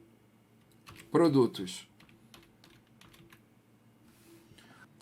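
Light typing on a computer keyboard in a spreadsheet session, scattered soft key clicks spread across the stretch, faint and close, with a brief spoken word near the start.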